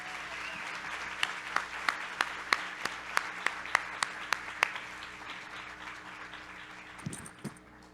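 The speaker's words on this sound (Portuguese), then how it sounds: "Palmas para a Bianca." Audience applause at a book fair event: a steady wash of clapping with a run of sharp, evenly spaced claps standing out near the middle, then fading toward the end.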